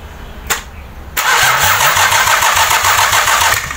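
A Nissan TD42 diesel engine cranks briefly, then catches and settles into a loud, steady, clattering idle close by.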